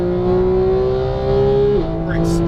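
Exotic race car engine on a track pulls hard out of a turn, a loud steady high-revving drone that climbs then dips briefly as it shifts, continuous and close throughout.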